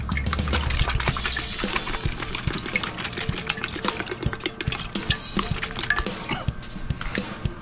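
Knorr liquid seasoning is poured into a pot with pork belly in a braise, giving a busy splashing, trickling liquid sound with many small clicks and drips throughout, close and fairly loud, with no talking.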